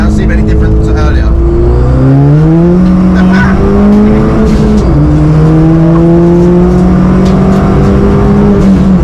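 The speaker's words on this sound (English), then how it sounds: "Like second gear, about 20 mile an hour. I'll foot down, see any difference to earlier." Ford Fiesta ST with a Revo Stage 2 tune, around 250 bhp, pulling hard in second gear from about 20 mph. Loud, close engine note climbs steadily in pitch with one brief dip at a shift or lift.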